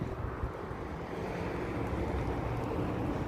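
Wind rushes in a steady, loud roar across the microphone on a sunny morning walk along Las Vegas Boulevard, with no voices heard.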